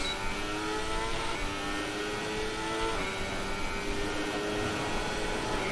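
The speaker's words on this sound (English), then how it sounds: "Over-revving it a little bit for those turns." A car engine in a racing video game over-revs through turns, a loud, steady, buzzing engine whine with shifting pitch that holds without pause and has no talk over it.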